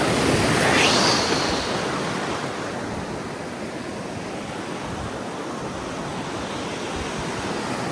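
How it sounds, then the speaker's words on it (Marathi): Sea waves break on Shrivardhan beach on the Maharashtra coast, a loud rushing crash near the start that settles into a steady broadband wash of surf, close and continuous, with no talking. "लाट आली"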